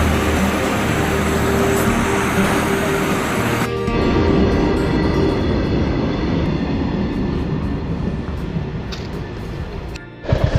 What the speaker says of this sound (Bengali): আর ওই চলে গেল ট্রেন, দেখো এখনও যাচ্ছে